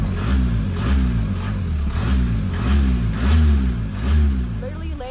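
A car engine idles and runs steadily right after a fresh battery is fitted, a low rumbling drone with slight rhythmic surges, close and continuous, with people talking over it.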